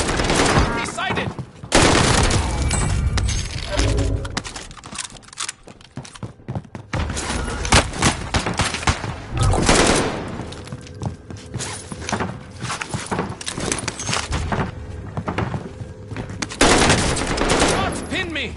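Dense game gunfire from a military shooter mission, loud and continuous, with bursts and rapid shots clustering through the clip, plus some thuds and footsteps among them; a voice may be present faintly.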